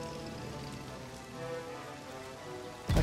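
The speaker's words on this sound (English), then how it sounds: "It is not night, but it is raining." Steady rain falls in the World War II strategy game Strategic Mind Blitzkrieg, a continuous even hiss of drops on surfaces with no speech, ending in a brief louder thump.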